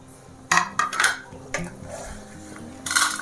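A metal spoon scraping and clinking against a pan as fried ingredients for pudina podi are lifted out, a few distinct clanks and scrapes close by over a faint background, no talk.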